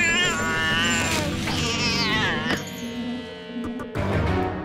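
A cartoon cat stuck in a tree meows loudly in long, wavering, rising and falling cries, a drawn-out caterwaul followed by shorter yowls, close and dominant.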